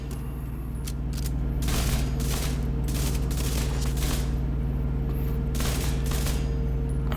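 Sustained automatic gunfire from the Stryker submachine gun in the video game The Division 2, rapid bursts of shots that run steadily over a constant game background hum with no talking.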